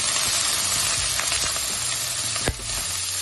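Karpo fried in hot oil with spices and salt for a Mangalorean banana sukka, with a dense, close sizzle and occasional spatula scrapes, one sharp knock near the end, and no voices.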